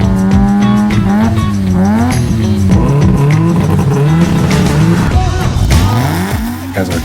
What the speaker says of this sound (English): the loudest exhaust competition drew the biggest crowd